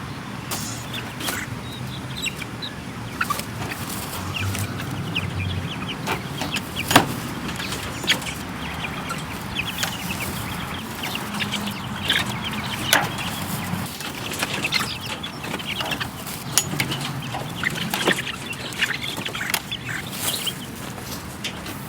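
Young chicks settling into their new home make scattered soft peeps and clucks, with frequent sharp taps and scratching spread across a long, fairly quiet stretch.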